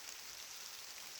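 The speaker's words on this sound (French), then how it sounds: "Il pleut un petit peu." Light rain falls in the Brocéliande forest, making a faint, even patter and hiss with no voices over it.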